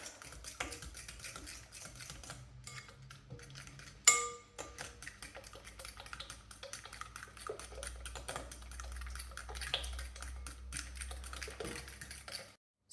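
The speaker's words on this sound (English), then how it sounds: "So I will mix it with fork." A fork mixing banana bread batter of mashed banana, egg, sugar and oil in a bowl, with quiet rapid clicking and tapping against the bowl, one sharp knock early on and steady soft stirring after.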